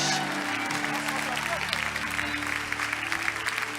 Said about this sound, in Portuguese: você pode celebrar bem forte o nome do Senhor e aplaudir ao Rei Jesus